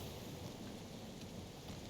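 Steady, dense rain in the Marvel's Guardians of the Galaxy video game, a constant even wash with a low rumble underneath, no voices.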